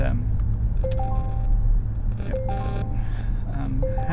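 Steady low road rumble inside a Volvo car moving on a road with Pilot Assist engaged, under muffled voice sounds, with several short electronic chime tones repeating across the clip.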